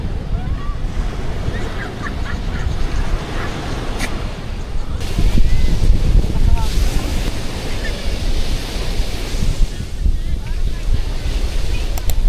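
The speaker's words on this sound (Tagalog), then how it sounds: "Tapos ayan yung dagat." Sea waves wash onto a beach in Zambales, a steady loud surf roar mixed with gusting wind across the microphone, with no clear talk over it.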